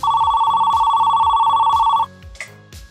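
A telephone rings with a sustained electronic trilling tone for about two seconds, loud and close, then stops, leaving a faint low hum and a soft click.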